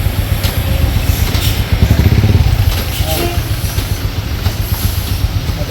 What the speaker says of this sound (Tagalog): Ngayon natin buhin yung motor.